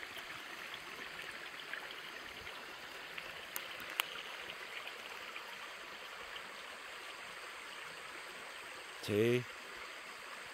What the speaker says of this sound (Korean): 집 앞에 흐르는 계곡물이 너무너무 좋네요